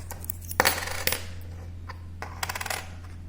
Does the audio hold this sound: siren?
no